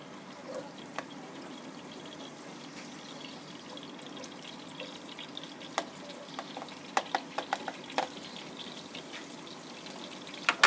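Chopped onions fry in ghee for an aloo masala, a steady low sizzle with scattered pops and stirring clicks growing busier toward the end, close and fairly quiet, no talking.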